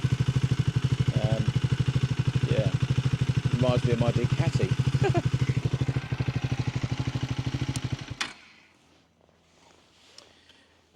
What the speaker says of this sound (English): Yeah, the engine's not the quietest, is it?